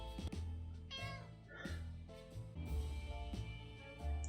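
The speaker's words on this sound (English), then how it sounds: "it looks like the cat is back" A cat meows repeatedly in the 60 Seconds video game, with several clear, close mews spread across the moment over a steady game background.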